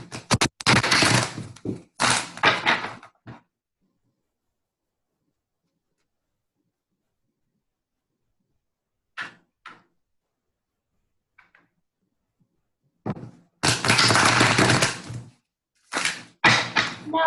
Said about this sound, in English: So I'm going to start shuffling the cards